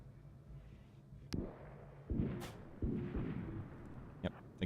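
Gunfire in a video game aimed at a sentry, several booming shots and impacts spaced irregularly over a low rumbling background, with faint voices underneath.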